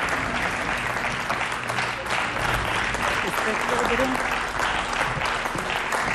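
A studio audience on a Bulgarian deal-or-no-deal game show breaks into sustained, even clapping that fills the room, with a brief spoken word heard over the applause.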